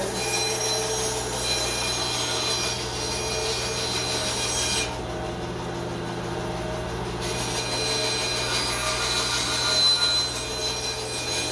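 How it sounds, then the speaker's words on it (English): A bandsaw cutting wood for a small hand-carved wooden boat runs as a steady, continuous mechanical whir and hiss, fairly loud and close, with a slight change in tone partway through and no talking. "I already got the bandsaw hooked up."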